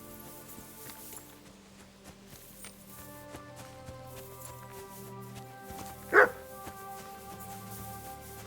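A single short dog bark in the medieval video game Kingdom Come Deliverance 2, rising clearly above a soft, constant wash of game music and ambience, with no talking.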